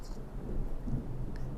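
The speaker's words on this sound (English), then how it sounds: "That's the thunderstorm too, if you hear it in the background." Thunder from a thunderstorm rumbles low and steady in the background, with rain-like hiss and a few faint ticks over it.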